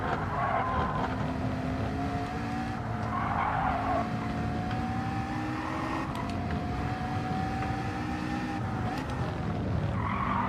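A race car in Gran Turismo holds a high, strained engine note that buzzes steadily against the rev limiter, with the pitch sliding slightly and brief tire noise mixed in, loud and continuous throughout.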